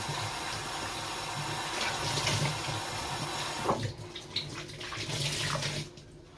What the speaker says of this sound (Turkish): Sıcak suyu açtılar herhalde.